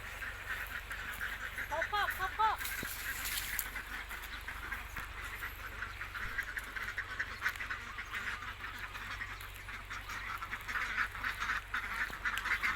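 Khaki Campbell egg-laying ducks in a pen on a Thai duck farm give a short burst of quacks early on, set against steady farmyard noise, with a person talking nearby.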